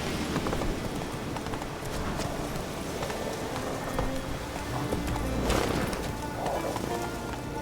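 Hooves of a horse galloping in The Witcher 3 video game, a steady rapid clip-clop over a dense continuous wash of game ambience and rain-like noise, loud and close throughout.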